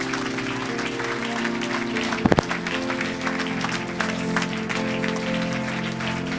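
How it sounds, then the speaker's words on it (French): Church congregation at a Sunday service clapping for Jesus Christ, a steady wash of hand claps over sustained music with a brief sharp burst of louder claps near the middle. "Somebody clap your hand for the Lord."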